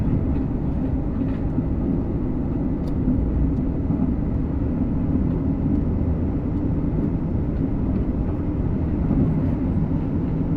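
A BR Class 807 Evero train running on the West Coast Main Line near Wembley Central, heard as a continuous, even rolling rumble with steady wheel and motor noise and no pauses.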